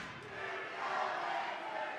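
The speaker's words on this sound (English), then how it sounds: "Crowd right in front of us chanting, "Here we go, Lancers," feeling it" A crowd at a 2022 WPIAL girls high school basketball game between Neshannock and Serra Catholic chants in unison, a faint, steady, distant roar of many voices filling the gym.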